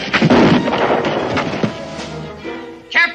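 A gunshot fired after a shouted warning in a 1969 western drama: a loud, close boom with a rumbling tail, followed by brief clatter and a short voice near the end.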